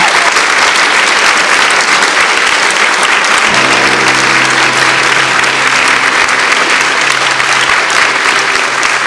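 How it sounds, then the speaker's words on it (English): Sustained loud applause from a large audience at the end of an evening talk event, dense steady clapping throughout with a low murmur joining partway. "please give a round of applause to the organisers, to TWT, to the sound engineers, the film people, to everyone."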